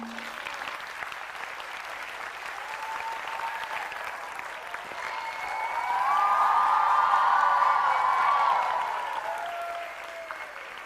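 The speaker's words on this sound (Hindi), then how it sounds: "पहले तो एक बार जोरदार तालियां बजाएं आप।" An audience claps loudly at the start of an evergreen Dev Anand quiz show, a steady dense applause that swells to a peak and then eases off, with a few whistles and shouts mixed in.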